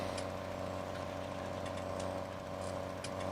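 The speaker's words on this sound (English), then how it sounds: "The sound of the tractor is quite nice." A tractor engine in Farming Simulator idles at a steady, even hum with faint mechanical ticking on top, fairly quiet and alone.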